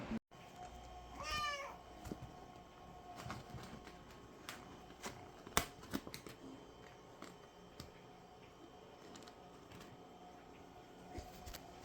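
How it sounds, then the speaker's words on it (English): A small kitten meows in a rising, wavering cry early on, followed by quieter rustling, clicks and soft handling noises. "just found this kitten when walking Trinity, so now we have a new kitten."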